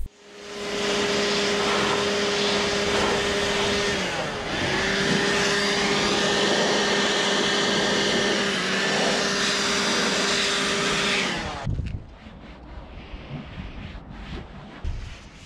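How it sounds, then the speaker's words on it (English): A leaf blower blasts air through the interior of a Porsche 911 during cleaning, a loud, steady, roaring whoosh with a droning whine that holds for about eleven seconds, then cuts off abruptly, leaving quieter handling noises. "If you need to, you can use a leaf blower like I did here."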